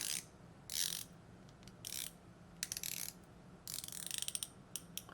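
Several short bursts of crisp, rapid clicking with quiet pauses between them, close and fairly soft, as a Sjöö Sandström UTC Skydiver watch bezel is ratcheted around.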